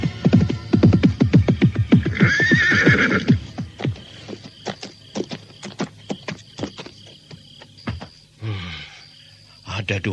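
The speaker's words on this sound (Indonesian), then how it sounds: "Ada 2 ekor kuda di halaman rumahku." Two horses in a house yard neigh loudly in a long shuddering whinny, with hoof clip-clops and snorts following as a voice talks nearby.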